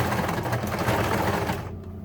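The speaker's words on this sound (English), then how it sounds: "So go back and forth across this tab a few times, locking all the stitching down, and at the same time sewing the cord into the tab." A sewing machine runs in one steady, close, rapid whir while it stitches back and forth across a fabric tab to lock the stitching and sew in a cord, then stops near the end with no talking.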